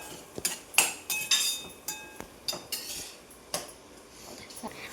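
Onions being stirred and sautéed in a pan, with a metal spoon scraping and clinking against the pan in a series of irregular strikes over a steady background sizzle, close and fairly loud.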